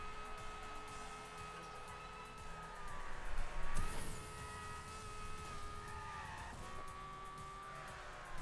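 A race car in the Hotshot Racing video game, its engine whining steadily with pitch rising and falling through gear changes, plus a brief skid or tire squeal mid-way.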